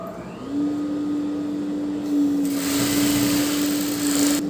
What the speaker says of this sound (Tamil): இப்போ இது தைச்சிக்கலாம்.